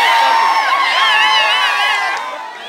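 A large crowd at a Maratha rally in Beed district cheers and whoops loudly to welcome Manoj Jarange, with a dense roar of overlapping voices that fades slightly toward the end.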